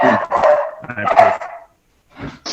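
Dogs bark in short bursts behind a person talking at a planning and zoning meeting, with a quieter yip near the end.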